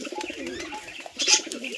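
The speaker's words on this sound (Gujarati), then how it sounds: "તો મિત્રો જંગલી કબૂતર છે બહારના જંગલી પાણી પીવા આવે છે" Wild pigeons gather to drink and bathe in water, giving soft repeated cooing calls close by, with a brief louder flutter or splash partway through.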